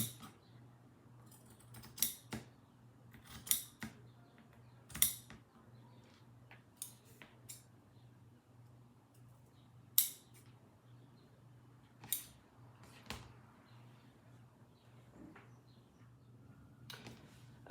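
Scissors snip through fabric, trimming a seam allowance while sewing a garment; isolated crisp cuts come a second or two apart over a low steady hum, quiet and close, with no talking.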